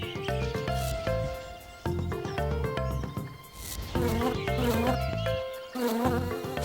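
Buzzing insects around foxglove flowers, close and loud, with wingbeat drones rising and falling between pauses, their pitch shifting as they move.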